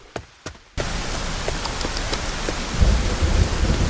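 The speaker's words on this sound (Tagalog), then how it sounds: "Ulan na." Heavy rain and rolling thunder in a Japanese horror video game, starting with a couple of sharp knocks before a sudden wall of loud rain, with a deep thunder rumble swelling near the end.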